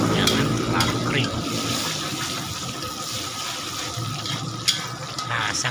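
Sliced shallots and red chili sizzle in a pan for kampung-style nasi goreng, frying loudly and steadily with scraping stirs and occasional clinks of the utensil.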